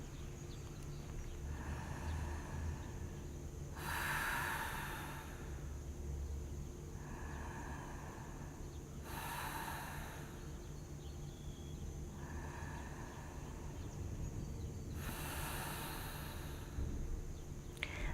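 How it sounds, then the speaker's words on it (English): Slow deep breathing during a yoga stretch, three long airy breaths evenly spaced over a steady low room hum. "we're going to enjoy 3 deep breaths on that side"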